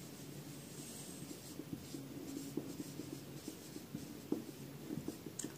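Chalk or marker scratches and taps across a board, irregular short strokes over a quiet room background, with no voices.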